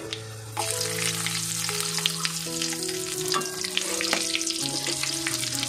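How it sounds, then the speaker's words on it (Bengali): Onions sliding into hot oil with cinnamon and small cardamom, a continuous bright sizzle that jumps up as they hit the pan, with steady frying hiss and occasional stirring scrapes, alongside a faint background musical tone. "ফোড়নটা একটু হলে তারপরে এর মধ্যে পেঁয়াজগুলো তুলে দেবে"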